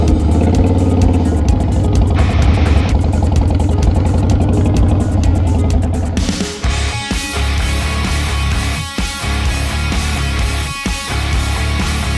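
A motorcycle engine runs loud and steady while the bike is ridden, a continuous droning rumble that shifts in character partway through, with no voices.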